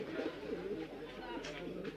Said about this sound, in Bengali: এখানে একজোড়া কিং কবুতর দেখতে পাচ্ছি